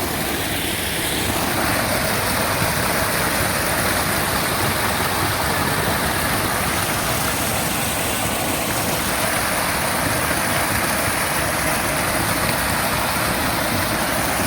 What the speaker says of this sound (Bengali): বৃষ্টির পানি খুব সুন্দরভাবে এখান থেকে গড়ে পড়ছে, গড়ে নামছে।